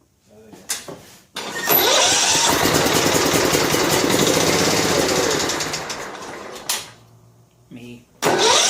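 A John Deere STX38 lawn tractor engine cranks in short bursts, then catches and runs loud and steady for several seconds before cutting out, with a brief crank again at the end; a voice is heard nearby.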